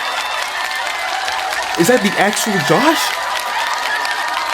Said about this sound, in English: They still clapping for him, bro.